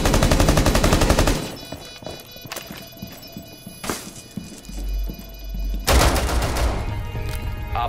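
Rapid automatic gunfire in a Rainbow Six Siege team deathmatch on the Oregon map opens the clip loud and close, followed by sparse single shots and thuds, then another loud burst near the end.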